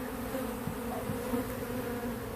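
Honeybees fly and buzz around a hive being removed, a steady close swarm drone with no speech over it.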